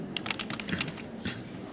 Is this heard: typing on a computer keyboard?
yes